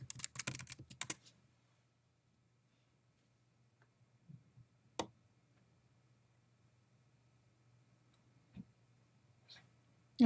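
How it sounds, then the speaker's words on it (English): Brief burst of rapid keystrokes on a computer keyboard at the start, then near silence with a few isolated clicks and a faint steady hum in a quiet room. "I'm going to type in espresso."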